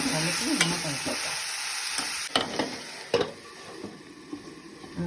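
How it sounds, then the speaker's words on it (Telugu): Ridge gourd pieces with turmeric sizzle steadily in a hot pan as they are stirred, with a few sharp scrapes of the spoon against the pan over a constant frying hiss. "బీరకాయ ముక్కలు వేసేద్దాం. కలిపి మూత పెట్టేద్దాం."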